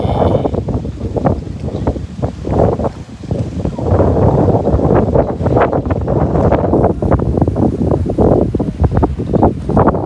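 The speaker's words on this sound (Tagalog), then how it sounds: "So windy." Strong wind buffets the microphone on a hotel beach in Abu Dhabi, a loud, continuous roar with gusty surges, likely with surf underneath, with no voices heard.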